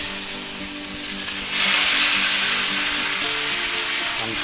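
A thick chuck steak sizzles loudly in a pan with butter and rosemary, a steady close hiss that swells sharply halfway through as the meat is flipped back over, then holds strong and even.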